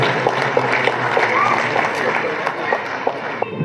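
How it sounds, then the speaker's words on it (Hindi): Steady applause from a crowd at a student prize distribution ceremony in Ahmedabad, dense and continuous, with some voices mixed in throughout. "तालियों से इस्तेकबाल करेंगे"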